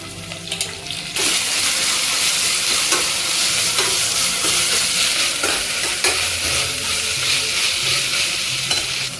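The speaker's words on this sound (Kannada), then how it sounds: "ಇದು ಗಂಧು ಬಣ್ಣ ಬರುವಷ್ಟರ ಮಟ್ಟಿಗೆ ಫ್ರೈ ಮಾಡ್ಕೋಬೇಕು ಮಾಮೂಲಿ" Chopped onion with ginger garlic paste frying in a pan, a steady loud sizzle with scattered scrapes of stirring throughout, after a brief quieter start.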